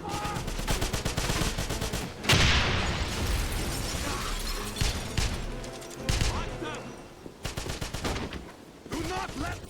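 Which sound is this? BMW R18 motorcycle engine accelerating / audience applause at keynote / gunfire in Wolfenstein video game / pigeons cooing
gunfire in Wolfenstein video game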